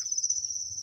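Crickets at a cricket farm trill in one high, unbroken shrill note, close and steady for under a second, with no voices over it.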